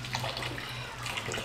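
Hot tap water runs steadily in a kitchen while cooking, a continuous close splashing hiss with no talk over it.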